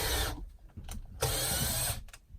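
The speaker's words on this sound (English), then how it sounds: "drilling the pilot holes up here" A power drill boring pilot holes overhead during foundation jack post work under floor joists, in two loud whirring bursts separated by a short pause, close by and without talk.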